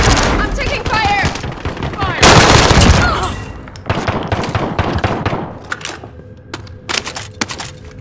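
Rapid bursts of gunfire in Call of Duty: Modern Warfare crackle close and loud, with dense overlapping shots and a heavy volley near the middle, while voices murmur faintly underneath.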